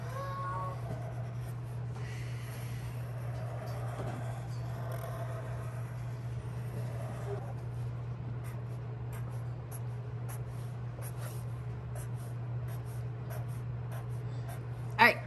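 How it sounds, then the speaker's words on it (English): A Sharpie marker drawing on paper makes soft, scratchy strokes close by, steady and faint over a constant low electrical hum, with a sharper tap at the end. "for the video, I'm gonna draw with Sharpie"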